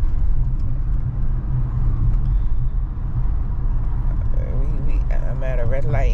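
Car engine rumbling steadily while driving toward a red light, loud continuous road drone with a revving whine near the end.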